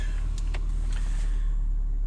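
A 2012 Honda Civic 1.8 engine idles steadily with a low, constant rumble, joined early on by a few faint mechanical whirs.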